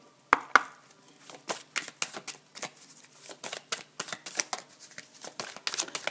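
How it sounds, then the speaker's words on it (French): Oracle cards are shuffled by hand in a quick run of crisp, close riffling slaps and flutters, with short pauses between bursts and no talking. "Je remélange bien."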